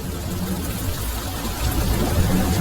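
Rain pours in a horror cartoon, a brief, steady, fairly loud wash of falling water with a low rumble underneath and no talking.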